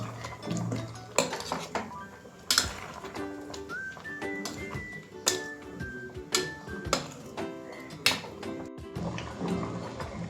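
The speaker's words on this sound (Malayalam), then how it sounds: "ഇത് നമുക്കിനി ഒന്ന് ഇളക്കി കൊടുക്കാം." A spoon stirs mango curry with ground coconut paste in a metal pot, producing repeated sharp clanks and scrapes against the pot at an uneven rhythm, with a faint tonal background between strikes.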